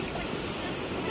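Rushing water from a small waterfall on Mount Isarog, a dense steady roar filling the whole short stretch without pauses, loud and close.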